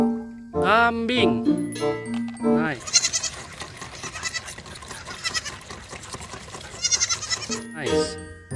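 A goat bleats in a mobile animal-cleaning video game: two loud, wavering bleats at the start and a short one near the end, with busy game sound effects in between and a voice talking over the gameplay.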